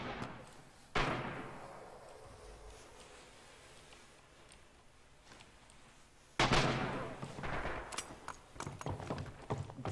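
Bursts of machine gun fire in a first-person shooter match, sharp rapid volleys starting around the one-second mark and a louder, sustained stretch of shots in the second half, with quieter in-game ambience between.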